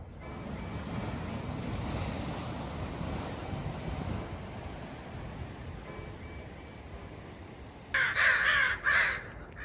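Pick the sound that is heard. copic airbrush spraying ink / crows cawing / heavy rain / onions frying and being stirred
crows cawing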